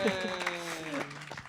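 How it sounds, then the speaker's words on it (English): Applause from a studio audience greets a TV camera crew on a polka music show. It is a steady patter of clapping that runs under a prominent voice or tones throughout. "who's going to get the biggest round of applause?"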